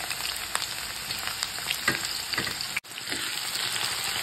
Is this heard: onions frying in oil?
yes